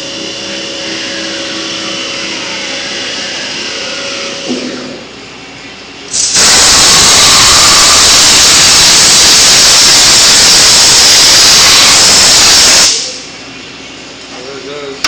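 A CNC mill cutting an aluminum Hohner MS-Series harmonica comb: a low machine hum gives way to a loud, steady, broadband roaring hiss lasting about six seconds, which then cuts off sharply back to the quieter hum.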